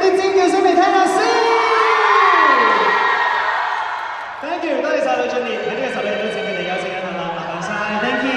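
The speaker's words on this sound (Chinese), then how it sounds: "我哋再俾啲掌聲，俾啲尖叫聲嚟聽下先" A crowd at a Hong Kong film premiere for Hit And Run Squad screams and cheers loudly, the shrill shouts and whoops rising and falling in one sustained, dense roar.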